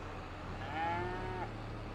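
A cow in Farming Simulator 22 lets out a single drawn-out moo, loud and close, over a steady low farm-machinery hum.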